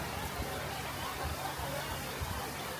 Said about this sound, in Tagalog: Palakas ng palakas yung ulan.